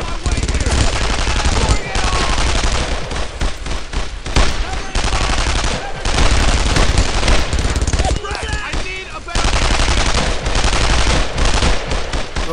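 Dense automatic gunfire and rifle shots from the war video game Brothers in Arms: Earned in Blood crackle loud and close in sustained bursts with brief gaps, while voices call out over the shooting.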